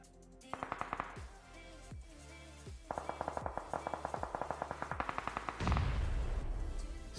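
Rapid bursts of gunfire in a competitive video game match, a tournament quarterfinal, with clusters of sharp repeated shots separated by brief pauses and a heavier rumbling blast near the end.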